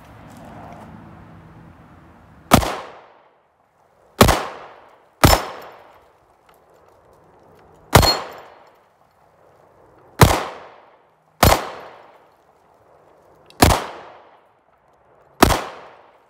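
Eight sharp, loud Smith & Wesson Shield EZ 9mm pistol shots ring out one at a time at irregular intervals, each with a brief ringing decay into quiet.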